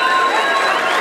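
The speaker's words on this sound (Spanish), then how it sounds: "Échale el aplauso a Leti por su valor." Rodeo crowd at a jaripeo cheering and clapping, a dense, loud wash of applause and shouts from many people filling the whole moment.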